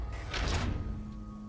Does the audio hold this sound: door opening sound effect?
yes